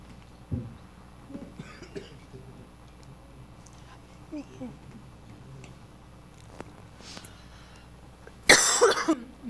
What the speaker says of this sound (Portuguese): a tosse aqui me segurando